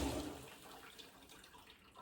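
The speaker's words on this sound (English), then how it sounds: "I'm going to turn off the gas and take those out. Okay, so I'm going to basically drain it." Cooking water from boiled cauliflower pours out in a short, steady splashing rush, loudest at the start and easing off over two seconds, with no voices.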